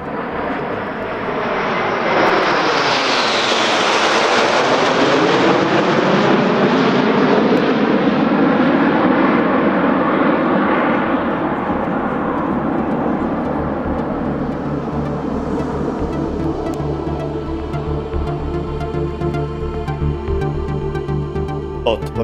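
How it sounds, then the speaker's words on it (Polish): TS-11 Iskra jet trainers fly overhead in formation at an air display, a loud roar that swells as they pass, sweeps down in pitch, and fades into a lingering distant rumble. "piloci zespołu latają na samolotach TS-11 Iskra"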